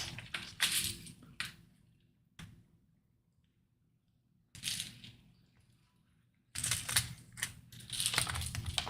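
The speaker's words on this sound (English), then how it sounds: "So, Kenny, did a cat just jump on your keyboard?" Clattering bursts of typing on a computer keyboard, close and fairly quiet, come in irregular clusters separated by near-silent pauses, with no voices.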